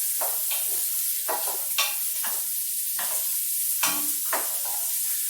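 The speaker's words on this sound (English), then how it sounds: "So this is going to saute for a few minutes, 2 or 3 minutes." Vegetables for soup sautéing in a pot, a constant bright sizzle with repeated spoon scrapes and stirs at an irregular rhythm, close up and with no voices.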